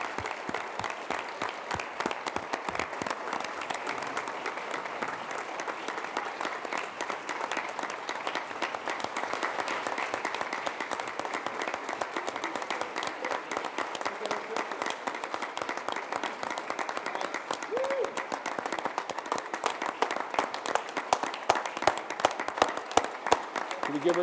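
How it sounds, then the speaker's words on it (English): Standing ovation for Mia Romero at a 2015 school business challenge event, a long, continuous wave of crowd clapping with dense, crisp hand claps that swell toward the end, cheers and voices scattered throughout. "Give her a standing ovation. Gonna have to keep clapping until she makes it up here."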